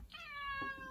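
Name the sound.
cat meowing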